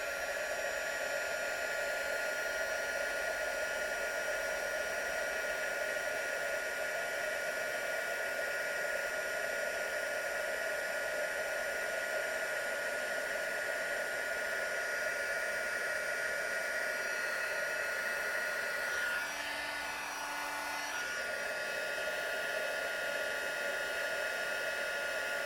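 Heat tool blowing hot air over a paper card-making project, a steady close whirring hiss that runs unbroken and shifts briefly near the end as the tool moves, with no talk.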